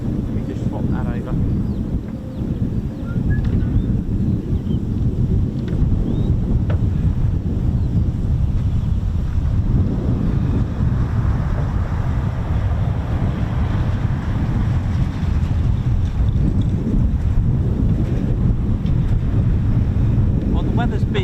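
Gusty wind buffets the microphone at an RAF airfield during F-35B flying, a continuous loud low rumble with surging gusts throughout, and faint voices occasionally underneath.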